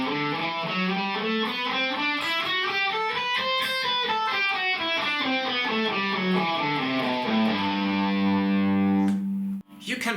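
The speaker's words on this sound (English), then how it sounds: "The scale I am talking about is called the major scale" An electric guitar with heavy distortion runs a major scale up and back down in steady notes, then lands on a sustained low note, loud and close with no other sounds.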